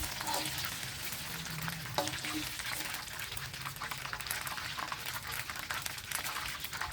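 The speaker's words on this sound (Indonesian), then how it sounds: "Jadi saya mau tumis dengan buncis. Ini goreng sampai agak kering ya" Sliced beef stir-frying in a pan with green beans for black pepper beef, a steady soft sizzle and crackle with occasional stirring scrapes, moderately quiet and close.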